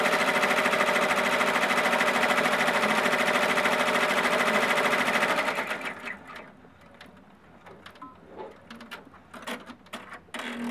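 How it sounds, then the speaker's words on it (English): An embroidery sewing machine runs a tack-down and bean stitch on a patchwork pumpkin design, a loud, fast, steady mechanical chatter that stops about halfway, leaving quieter handling noises. "this step is going to be the tack down and the bean stitch for this stem all at once"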